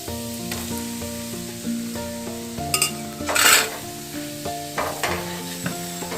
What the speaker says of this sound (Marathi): कढईमध्ये गरम तेलामध्ये सर्व खडे मसाले मी फोडणीसाठी घातलेले आहेत